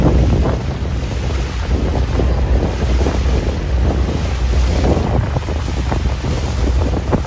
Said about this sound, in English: So we got a barge coming down.